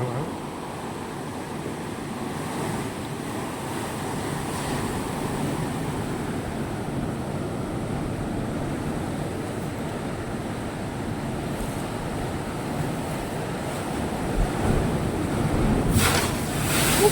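Sea waves wash and break continuously along a beach at San Fabian, Pangasinan, a steady surf roar mixed with wind buffeting the microphone, swelling a little louder near the end.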